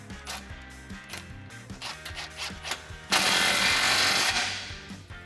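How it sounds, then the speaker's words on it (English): Exhaust clamp being tightened on the extension pipe of a 2015-2020 Ford F150 dual exhaust install, with a ratcheting tool clicking in quick uneven bursts, then a loud sustained rattling whir near the end, close up. "and then tighten down that clamp"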